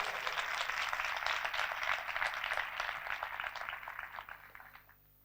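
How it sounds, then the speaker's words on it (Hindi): A congregation at a Christmas sermon gives a dense, steady round of clapping that holds strong for several seconds, then tapers and fades out near the end. "यीशु जो कलाम और कलमा है, उसके लिए जोरदार तालियां बजाइए"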